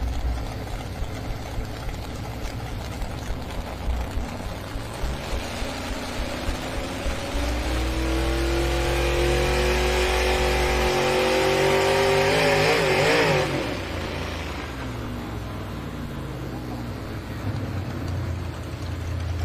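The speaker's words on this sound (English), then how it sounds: "This is a 2001 Chevy Silverado out of Harpers Ferry, West Virginia." 2001 Chevy Silverado pulling truck at a truck and tractor pull in Bowling Green, Ohio: a sustained, loud engine roar that builds, with rising, wavering pitch through a long pull, then fades back to a lower rumble with distant crowd noise.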